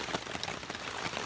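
Steady rain patters onto a tarp stretched over a hammock camp, a dense, even hiss of drops close by with no voices.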